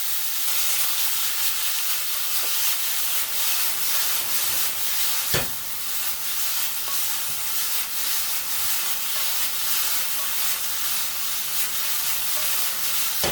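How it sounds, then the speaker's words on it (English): Meat sears in a hot pan for Hong Kong style chow mein, giving a loud, steady sizzle with no talk, broken once midway by a sharp clack of a utensil. "flip it over and sear the other"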